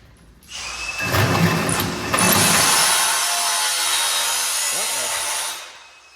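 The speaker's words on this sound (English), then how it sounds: "I got a 2-inch hole saw in here, and we're just gonna drill that out." A power drill with a 2-inch hole saw spins up and grinds steadily for several seconds, loud and close, then winds down.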